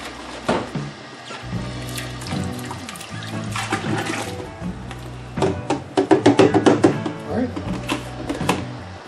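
Water pours in uneven gushes into a beer brewing vessel, splashing and gurgling loudly up close with short pauses between pours and a burst of rapid sloshing near the end.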